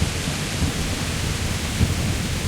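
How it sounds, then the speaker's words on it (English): Heavy rain pours steadily with a low rumble of thunder in the medieval video game Kingdom Come Deliverance, a dense, loud wash of noise that stays constant throughout, with no voices. "The rain is loud."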